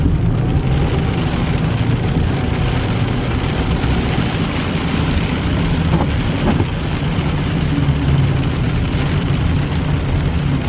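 Rain falls steadily outdoors, making a dense, even hiss that stays loud and unbroken throughout, with no voices.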